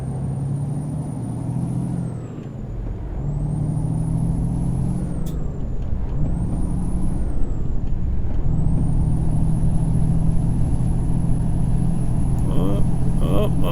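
Detroit diesel engine of a Western Star truck in American Truck Simulator drones steadily for about fourteen seconds with a deep, loud rumble, rising and falling as it revs, with a sharp hiss partway through.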